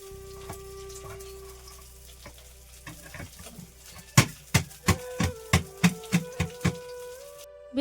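A knife chops through small fish, cutting them into pieces with a run of about ten sharp, close, evenly spaced thuds on a board after some scattered softer knocks.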